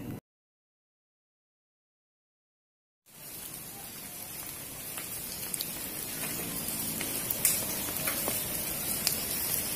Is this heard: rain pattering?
yes